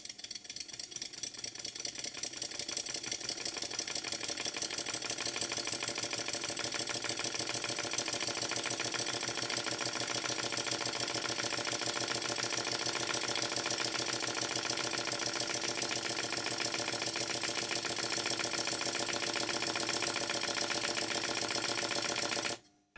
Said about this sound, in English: I'll open the valve and just let it run for a moment or two, and I'll stop talking so you can hear the engine's noise.